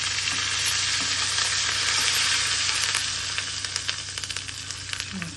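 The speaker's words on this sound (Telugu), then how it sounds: "పోపు వేగుతుంటుంది చూడండి" A tempering of spices and curry leaves fries in hot oil for vankaya kalchina, a dense, loud, continuous sizzle with sharp crackles and pops growing toward the end.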